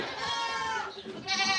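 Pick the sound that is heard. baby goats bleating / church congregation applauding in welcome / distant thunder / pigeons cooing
baby goats bleating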